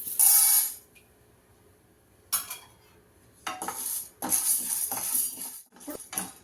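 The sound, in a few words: dry roasting chana dal in a pan, stirring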